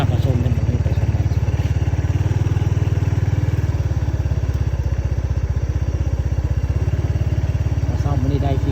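A motorcycle rides along a road toward a cassava plantation in rural Thailand, its engine chugging steadily and loudly up close for the whole stretch, with someone talking over it.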